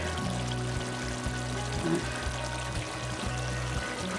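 Oyster sauce is poured into a beef and vegetable egg roll filling, a soft, steady trickle against a constant background hum, with no voices.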